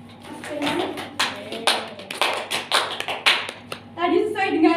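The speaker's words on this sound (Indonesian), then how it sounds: "Beri tepuk tangan untuk Mas Firman." Sparse classroom clapping for a student during an Indonesian language lesson, a few uneven hand claps in a short irregular burst, followed by a voice talking.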